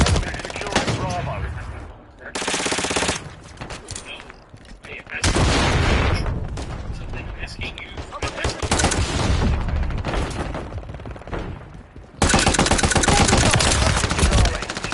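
Rapid automatic gunfire and bursts of shots in the Call of Duty MW3 video game, loud and close, coming in heavy clusters with brief lulls, under game voice callouts.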